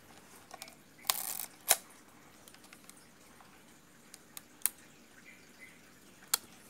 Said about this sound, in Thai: ชัตเตอร์บีครับ